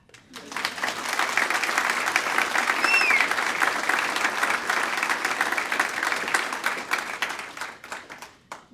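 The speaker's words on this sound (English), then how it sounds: "Can we just give her a clap?" Audience applause at a women's high tea speech event, a steady wash of many hands clapping that swells in and holds for several seconds before tapering, fairly close and filling the room.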